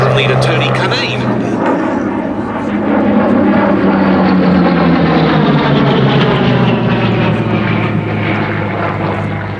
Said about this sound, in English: So the arrival then of the Hurricane, and we have the Piper Cub just taxiing.